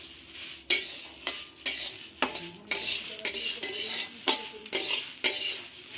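Gobindobhog rice frying in ghee in a pan, a steady close sizzle broken by several sharp scrapes and stirs of a spoon against the pan, no voices.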